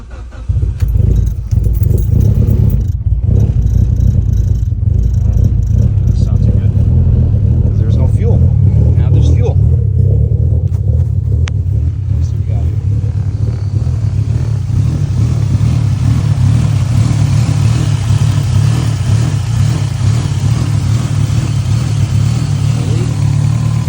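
A car engine with a failed fuel pressure regulator starts and settles into a loud, steady idle with a deep low rumble, close and continuous, with some handling noise at the start.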